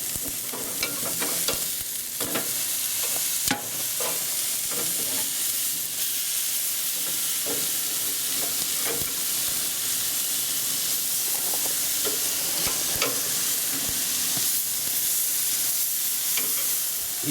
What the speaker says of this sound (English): Steaks have been on for a few minutes. Time to give them a turn.